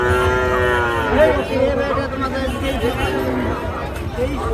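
Cattle, including bulls and calves, moo loudly and repeatedly over a busy crowd at a livestock market in Chapainawabganj, Bangladesh, with voices chattering and haggling throughout.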